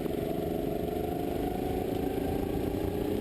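Buzzing, steady drone of a racing go-kart engine running during a hot summer league race, holding an even, mid-pitched rasp with a rapid pulsing texture and no break throughout.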